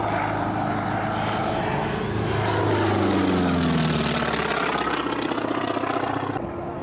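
Loud, steady propeller drone of a Fennec, a French military trainer flown in the Algerian War, passing at an airshow, with a rising then falling pitch sweep as it goes by close overhead.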